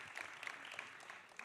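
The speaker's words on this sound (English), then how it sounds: "Yes, it deserves an applause." An audience at the European Greens congress in Dublin applauds, a faint, distant patter of many hands clapping steadily.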